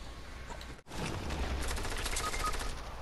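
Sustained rapid gunfire in Fortnite, a dense burst of shots that starts after a brief break and continues loudly to the end, with no talk over it.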